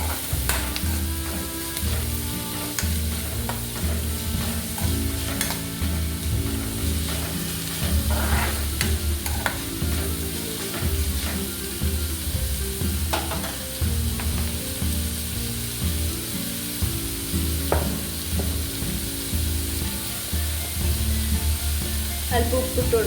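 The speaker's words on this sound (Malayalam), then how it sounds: "അപ്പോൾ നമുക്ക് നന്നായി ഇളക്കി കൊടുക്കാം." Sliced onions frying in oil in a pan for a Kerala-style chicken fry, stirred steadily, a continuous close sizzle broken by repeated scraping strokes of the spoon, with no talking.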